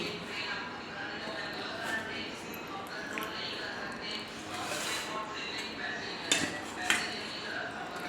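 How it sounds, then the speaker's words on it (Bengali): A bowl and plate clink and knock on a kitchen surface while kachori is plated, a few light ceramic taps with two sharper knocks near the end, under steady talking. "আমি এই একটা বোল নিয়ে নিলাম, প্লেট নিয়ে নিলাম।"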